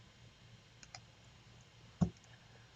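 Computer mouse clicks on a desktop status bar: a few faint, sparse clicks early on, then one sharper, louder click near the end, heard close up in a quiet room.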